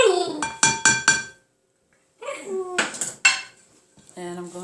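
A spoon stirring molasses into candied yams in a metal pot, with several sharp clinks and scrapes against the pot, a short silent pause, then more clattering strokes, near and fairly loud.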